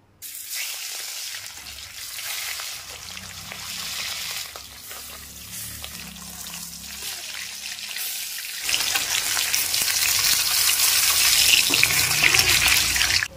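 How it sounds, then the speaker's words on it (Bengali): Fish fry in hot oil in a wok, first a moderate crackling sizzle, then a louder, denser hiss surging up when more pieces go in, steady and close with no talking. "তেল খুব ভালোভাবে গরম হয়ে গেছে। এবারে মাছগুলিকে ভেজে নেব।"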